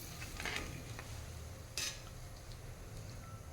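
A utensil scrapes and clinks against a pan while chicken in coconut milk is stirred, with a couple of brief scraping strokes over a low, quiet background and no talking.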